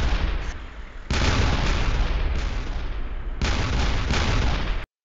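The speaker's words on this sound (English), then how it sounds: "Gunshots and explosions are heard in the background." Recorded gunfire and explosions play as dense, loud, rumbling bursts of booms and cracks, surging and easing in waves before cutting off abruptly to silence.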